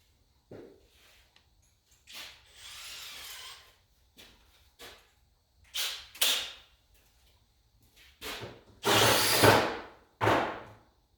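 A drill bores into car fenders for a Ford Model A–style build, short bursts of whirring and grinding separated by quiet gaps, with louder sustained runs toward the end.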